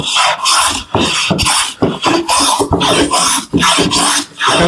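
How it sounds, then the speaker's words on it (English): A number 4 smoothing hand plane takes finishing strokes across poplar wood, each rasping, shaving pass coming in a quick rhythmic series of about ten close, loud strokes. "we're going to take our number 4 here and just give it that finish smooth"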